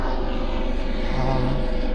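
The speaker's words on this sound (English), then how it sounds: "That rescue helicopter is flying around." A rescue helicopter flying overhead on a mountain bike trail, a steady droning engine hum with a low pulsing rotor beat, fairly close and loud, holding constant throughout.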